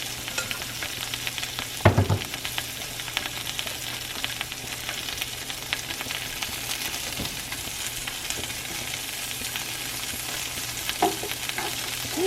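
Sausages frying and sizzling steadily in a pan, a constant close hiss with an occasional clatter or scrape of the pan.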